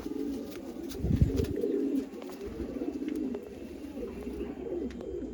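Pigeons coo at a pigeon sale and show, a low, repeated cooing that stays close and steady throughout, with a louder burst early on and light chirps over faint background noise.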